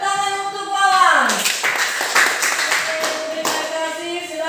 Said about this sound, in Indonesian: Tepuk tangan untuk Wawan.